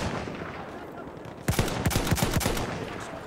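Gunfire in the video game Battlefield 1: after a quieter stretch of background game noise, a loud burst of rapid, closely spaced shots starts about halfway and carries on in a rattling string, with faint voices in the background.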